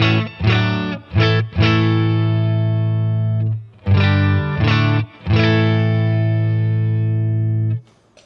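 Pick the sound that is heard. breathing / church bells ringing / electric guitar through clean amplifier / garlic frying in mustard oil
electric guitar through clean amplifier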